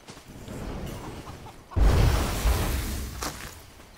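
Chicken clucking and squawking in the survival game Enshrouded, a burst of fowl noise mixed with loud whooshing and a thumping impact, fairly close with no talking.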